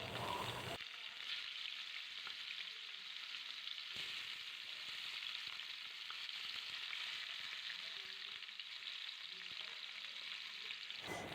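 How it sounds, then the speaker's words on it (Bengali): Bhangar fish frying in mustard oil in a wok, giving a steady, dense sizzle that crackles evenly from start to finish with no voices over it. "এবার কড়াইতে 3 চামচ মতো সর্ষের তেল দিয়ে মাছগুলো একে একে করে"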